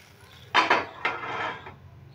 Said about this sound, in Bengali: এবার ঢাকাটা খুলে নিচ্ছি।